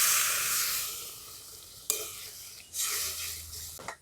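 Spiced potatoes sizzle in a hot pan, with a bright steady hiss throughout that is broken by a few sharp scrapes and knocks of a spoon stirring them.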